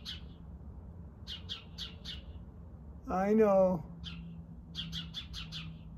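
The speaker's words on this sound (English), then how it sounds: "There's a bird watching us." A bird chirps nearby in a series of quick, high, repeated tweets, and a short spoken phrase breaks in midway.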